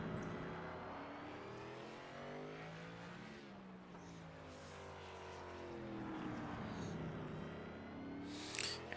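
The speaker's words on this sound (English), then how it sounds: "here we see last season's champion Adam Boughton pulling on track in that Toyota Supra." A Toyota Supra Xfinity series race car pulls onto a tight track at the Clash at the Coliseum, its engine a faint, distant drone that rises and falls through gear changes over about nine seconds.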